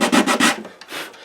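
Several quick back-and-forth rasping strokes of a leather-backed sanding stick smoothing the wood of a 1974 Martin D-18 acoustic guitar, close and dry, then a softer final stroke.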